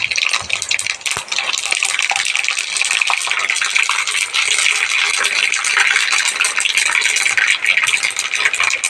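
Mustard seeds sizzling and crackling in hot coconut oil while making a mango pickle, a loud steady bright frying hiss with fine popping throughout, close up and alone.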